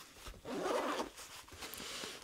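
A zipper being pulled open on a pouch of a Reebow Tactical sling pack, a close, continuous scratchy rasp lasting a couple of seconds with a short pause partway through.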